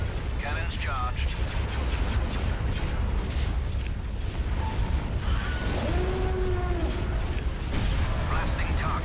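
Republic cannons fire in the Star Wars Empire at War video game, heavy booms and rumbling blasts amid battle noise, with in-game voices speaking over the fighting.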